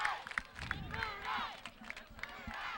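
Visiting-side crowd cheering near the end of a youth football final between La Plata and Westlake, with voices, clapping and babble building and falling close by, while a commentator speaks over it.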